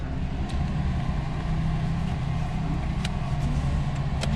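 A drift car's engine idles at a drift event, a steady low rumble with a constant hum, close and fairly loud, with faint distant clicks over it and no talking.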